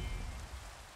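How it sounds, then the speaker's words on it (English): Rain falling in Minecraft, a steady soft wash of rainfall with a low rumble underneath, continuous and moderately loud with no voices. "would you look at that? It's raining."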